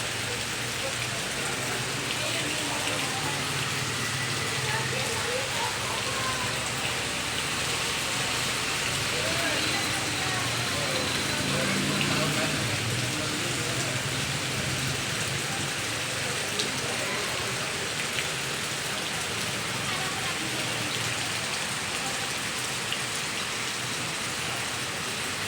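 Steady rain falls during a tropical storm under Signal No. 1 warning, a dense continuous hiss that holds evenly for the whole stretch with no clear voices on top.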